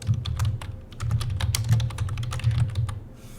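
Rapid, irregular clicking of keys being typed on a computer keyboard, close and steady throughout, with a low hum underneath.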